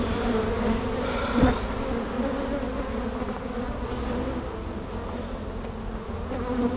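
Honey bees buzz steadily in an opened beehive, giving a dense, continuous hum from many insects close by, with a brief louder swell near the start.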